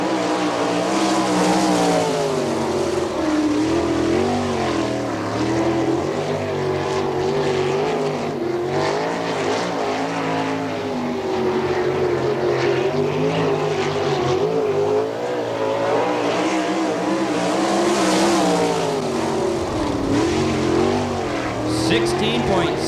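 Sprint cars at an All Star Circuit of Champions dirt track race in Findlay, Ohio, roaring continuously with rising and falling engine pitch as they circle, while an announcer talks over the noise.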